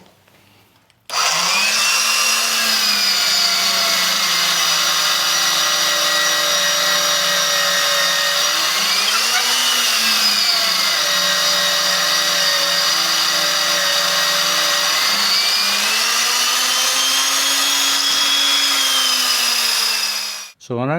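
A tenon auger cuts a tenon on a wooden stagecoach wheel spoke, giving a steady, loud whirring grind with a wavering pitch that runs for about twenty seconds without a break.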